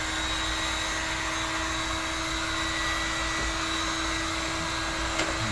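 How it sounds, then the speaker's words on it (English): A steady, loud blowing roar with a constant high whine, running continuously like a heat gun or blower close by, with no talking. "I'm gonna hook the air gun up, or the heat gun up rather. Make it a little loud."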